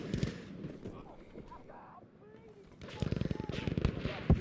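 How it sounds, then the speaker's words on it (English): Gunfire from a ZK-383 submachine gun in Battlefield 5 during a competitive match, rapid bursts of shots rising toward the end under a caster's excited commentary. "Mythical Khan coming in and takes him out with some headshots from that ZK3A3"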